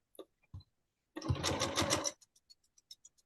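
Sewing machine running a short, steady stitching burst of about one second over a scrap fabric leader loaded with thread, with faint ticks and clicks before and after.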